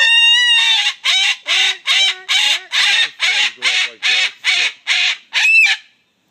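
Pet birds let out a loud, rapid run of about a dozen harsh, honking squawks in steady rhythm, close and alone without talk.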